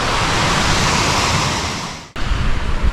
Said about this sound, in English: there's like a massive waterfall here